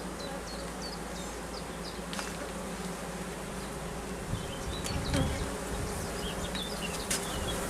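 A dense mass of honey bees hums continuously just before swarming, a steady close buzz with individual bees zipping past and faint rustling, no speech.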